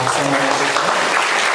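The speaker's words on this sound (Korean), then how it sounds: "박수 한번 해주세요." A congregation applauds during a Sunday service at a Korean church in Chicago, welcoming new members; steady dense clapping fills the space, with a faint sustained tone underneath.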